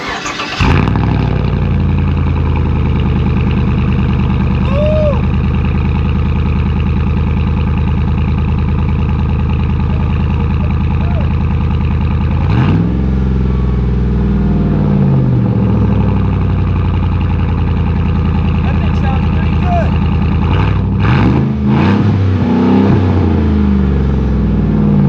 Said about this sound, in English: let's go ahead, fire this thing up and see how it sounds now